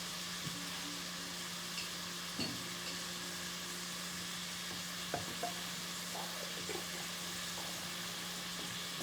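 Olives being stirred into yellow rice in a pan: a steady low sizzle and hiss under a constant hum, with occasional faint scrapes and taps of a utensil, close by and without talk.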